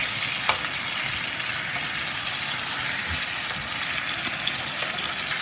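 A chicken fillet sears in a hot pan with a steady, dense sizzle and crackle throughout, a few faint clicks and pops standing out.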